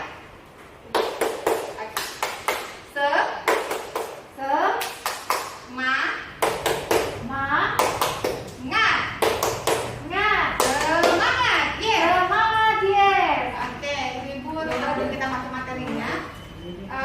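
A group of adults at a community health cadre training session claps out the rhythmic 'tepuk semangat' chant, with sharp, evenly spaced bursts of hand claps followed by chanted voices and talk.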